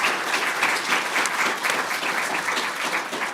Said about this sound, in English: maybe just a round of applause for the.